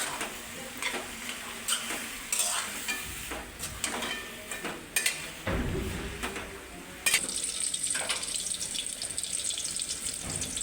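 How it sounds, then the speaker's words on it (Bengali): Eggs frying and being stirred in a pan at home, with steady sizzling and irregular scraping and clinking from the stirring, close and fairly loud throughout, no talk. "এখন ডিম দিয়ে দিব। ডিম দিয়ে পরে লাড়াতে দিলেই"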